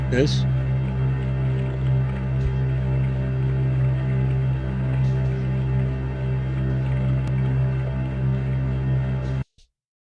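A deep synthesized drone made on the Pigments synth hums steadily with layered watery drips and a low dishwasher-like churn, sustained for several seconds before cutting off abruptly, followed by one brief blip.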